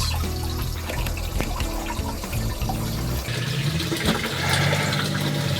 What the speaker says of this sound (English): It's pretty shocking to see water pouring in a boat that quickly.